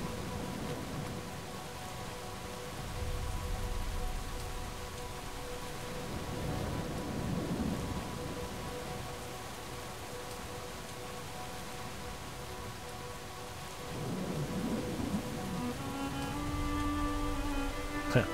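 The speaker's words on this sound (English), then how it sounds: "It's raining in there now." Steady rain pours inside a cave in the video game Brothers: A Tale of Two Sons, a constant wash of drops with low rumbling swells like distant thunder and a faint musical tone near the end.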